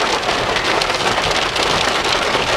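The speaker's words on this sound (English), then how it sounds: "it just looks like rain now" Heavy rain pours around a car after a thunderstorm, a loud, dense, unbroken hiss of drops drumming on surfaces, with no voices.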